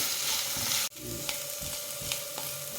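Greens sauté in hot ghee in a pan, making a continuous bright sizzle that cuts out briefly near the start and then resumes, with light stirring scrapes on top.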